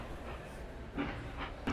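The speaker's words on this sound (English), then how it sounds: "snapped Gordon as he left with his express train" An express steam engine pulling away with its train gives a steady rolling rumble with a few soft rhythmic chuffs and clanks building toward the end.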